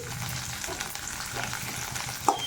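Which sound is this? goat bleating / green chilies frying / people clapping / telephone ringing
green chilies frying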